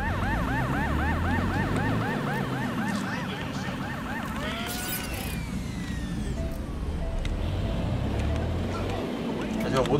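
Police car sirens wail in the video game Watch Dogs: Legion, several overlapping up-and-down siren tones cycling steadily and loudly over constant traffic and engine noise, with a rising sweep midway and a voice speaking over them.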